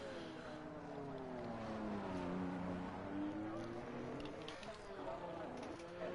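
An Alpine race car on an outlap in a sim racing game at the Mexico circuit, its engine droning steadily with wavering pitch as it weaves to warm the tyres, held at a moderate level under a commentator's voice.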